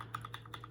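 Keys clack on a mechanical keyboard with lighter Gateron Brown switches in a quick, brief run of soft, even taps, close and quiet over a low steady hum.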